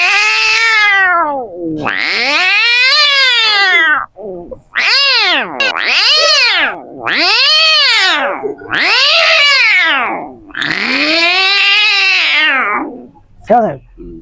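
A human voice imitates cats fighting, with rising and falling yowls and caterwauls in five or six loud, drawn-out bursts separated by short gaps.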